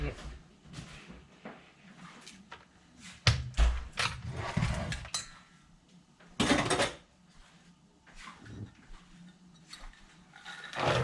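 Pecan pie filling beaten in a bowl, quick uneven bursts of a utensil scraping and clattering against the bowl, near and fairly loud, with pauses and a speaking voice between strokes.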